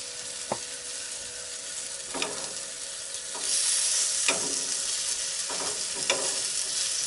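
Breakfast frying on a Coleman camp stove, with a steady sizzle and hiss that swells louder midway, and a few soft clicks and scrapes of stirring or turning the food close by.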